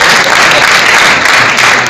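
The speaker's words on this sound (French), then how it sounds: "Est-ce qu'on peut applaudir bien fort pour Nicolas?" An awards-ceremony audience applauds loudly and steadily, a dense wash of clapping that holds for the whole two seconds with no talk over it.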